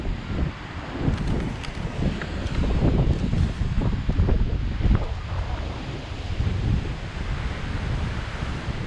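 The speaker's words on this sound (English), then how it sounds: "over there is always like the waves like collapsing in like a center" Ocean waves at Nagasaki Beach in Yamaguchi, Japan, collapsing toward a central point, heard as a steady, loud wash of surf with wind buffeting the microphone throughout and no talk.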